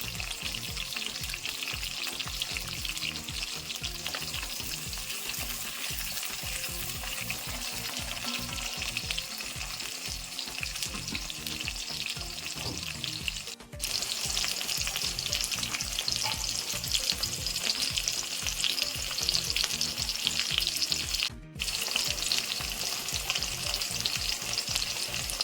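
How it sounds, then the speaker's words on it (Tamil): Garlic and small shallots sautéing in a pan, a continuous crackling sizzle with frequent stirring scrapes, broken by two brief pauses, no voices. "அதுக்கப்புறமா பூண்டு, அப்புறம் சின்ன வெங்காயம், இது எல்லாத்தையும் சேர்த்து நம்ம நல்லா வதக்கிக்கலாம்."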